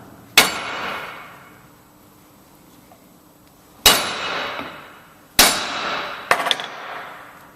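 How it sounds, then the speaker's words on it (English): Sharp metallic hammer strikes on a propshaft with its universal joint clamped in a vise: one strike, a pause, then two more and a quick double tap, each clang ringing briefly before fading, close and loud. "we can rest the part of the shaft, the universal joint, sorry, in the vise, and gently hit the prop shaft here"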